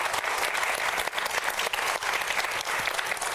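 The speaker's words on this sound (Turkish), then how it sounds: "kocaman bir alkış lütfen" A crowd claps in sustained, dense applause, close and loud, with no break across the few seconds.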